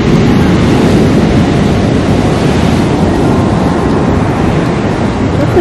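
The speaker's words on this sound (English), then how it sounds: "Waves look super powerful and big. You can almost hear them crash." A steady roar of ocean surf at Vik's black sand beach in Iceland, with heavy wind buffeting the microphone throughout and no distinct breaks between waves.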